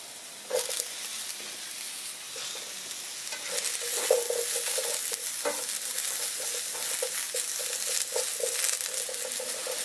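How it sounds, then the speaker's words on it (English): Shiitake mushrooms and asparagus brown in a hot stir fry pan with tempeh, giving a continuous hissing sizzle broken by scraping stirs, fairly close and steady with no talking. "And we basically are browning the asparagus also."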